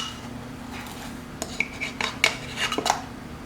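Dry ingredients, including sugar-free pudding mix and baking powder, stirred together in a bowl: a quiet run of light clinks and scrapes from a utensil against the bowl, irregular and close.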